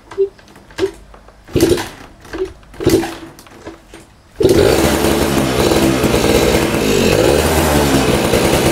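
A Yamaha F1ZR two-stroke motorcycle engine in poor condition, with an audible knock, blips in several sharp revs and then holds a loud, continuous rattling buzz up close.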